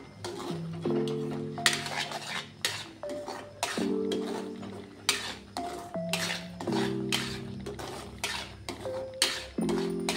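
A spoon clinks and scrapes repeatedly against a pan as potato halwa is stirred over the heat, the metallic strikes coming in a brisk, uneven rhythm over a soft tonal background.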